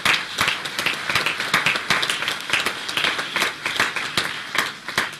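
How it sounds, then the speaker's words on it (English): An audience applauds award nominees at the opening of the UWI Games and Vice-Chancellor's Sports Awards, with distinct sharp claps standing out within a moderately dense, lively ovation that continues steadily. "I'd ask you to give them all a resounding round of applause"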